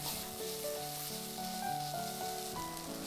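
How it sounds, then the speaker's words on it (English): Tomato paste frying in olive oil, a steady close sizzle filling the whole stretch alone, with tonal background music running underneath. "Fry the tomato paste for a minute to deepen the flavor."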